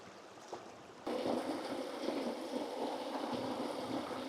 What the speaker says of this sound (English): sounds of waterfalls and creeks